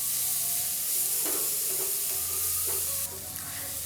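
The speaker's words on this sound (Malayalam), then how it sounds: "സവാളയും ചേർത്ത് കൊടുത്ത ശേഷം നല്ല രീതിക്ക് തന്നെ നമുക്ക് ഒന്ന് വഴറ്റിയെടുക്കാം" Onions sautéing in a pan for Kerala-style pepper chicken curry, a steady close sizzle with occasional stirring scrapes and clicks, no talking.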